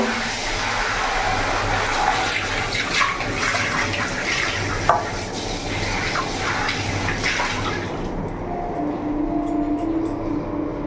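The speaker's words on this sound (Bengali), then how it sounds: "কড়াইটা একটু পরিষ্কার করে নেব।" Water runs and splashes steadily against a metal wok as it is rinsed, a continuous washing sound that eases near the end.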